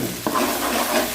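Spice paste frying and being stirred in a pan for chicken soup, a steady close sizzle with one sharp scrape of the spoon early on, no voices.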